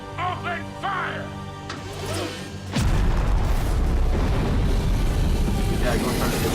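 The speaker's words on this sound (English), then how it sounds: "Heavy cannon, open fire!" Voices speak over a musical backdrop, then a sudden heavy boom erupts into a sustained loud rumbling roar of cannon fire.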